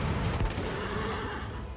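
A horse neighs loudly in Heroes of the Storm, one drawn-out whinny over dense, noisy game sound, with a faint hint of hooves.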